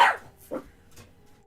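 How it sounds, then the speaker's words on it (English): Dogs bark in short, sharp yaps, with one loud close bark followed by a couple of fainter yips in quick succession. "there's 3 of them barking"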